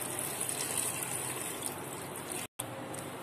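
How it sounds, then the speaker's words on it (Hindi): A steady gushing stream of water is poured into spiced mutton for nalli nihari, about 200 ml, sounding close and continuous before cutting off abruptly near the end. "अब हम इसमें पानी ऐड कर देंगे 200 ml के करीब।"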